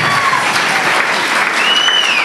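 Loud, steady audience clapping fills a school award show hall for an award recipient, with a faint voice carrying over the applause.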